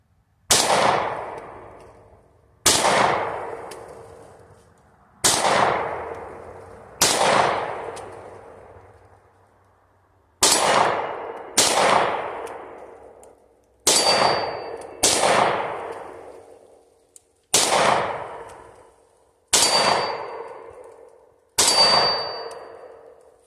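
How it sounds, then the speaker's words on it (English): Gunshots ring steel targets at an outdoor range while the shooter holds a light, giving about a dozen sharp cracks, each followed by a long metallic clang that decays, spaced irregularly and loud. "It's a lot harder shooting while holding a light."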